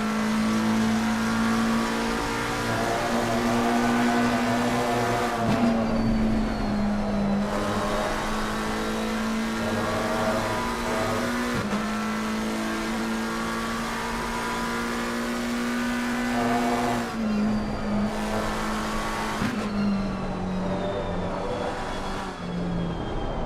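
A race car engine at Silverstone in Assetto Corsa Competizione screams through sustained high revs, pitching down briefly at gear changes and dropping off through corners before climbing again, loud and continuous.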